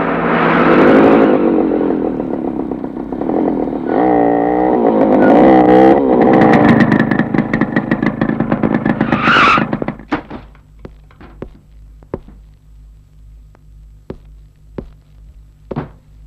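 A car engine revs loudly as the vehicle turns around and speeds off with squealing tires, then fades, leaving a few sharp knocks and thuds against a quieter background.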